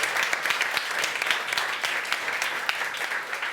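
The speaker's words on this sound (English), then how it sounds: "give Jeff another round of applause for a great talk" An audience at a tech talk applauds steadily, a dense wash of clapping hands that holds throughout.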